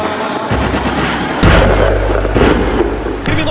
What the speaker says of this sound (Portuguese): Tiros, hein? Bandidos estão atirando.